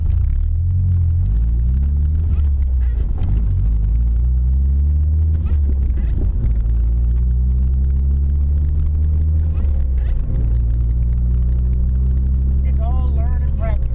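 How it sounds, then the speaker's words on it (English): Manual car engine idling and pulling as the clutch is let out, a steady low droning rumble with shifting engine tones, close and loud throughout, with someone talking over it. "I'm gonna show you the procedure of letting the clutch out"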